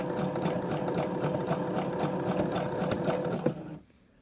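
Sewing machine stitching a long 44-inch fabric strip, a close, steady rapid whirring hum that runs for several seconds and then stops abruptly.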